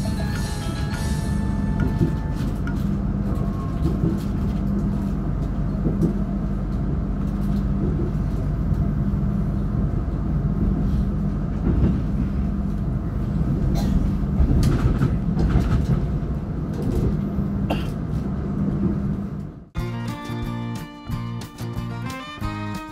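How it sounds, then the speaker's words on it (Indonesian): Fajar Utama Jogja economy passenger train rolling along the rails, heard from inside as a steady low rumble with rhythmic clickety-clack, then a sharper change in the rhythm near the end. "Kereta api Fajar Utama Jogja berhenti di stasiun"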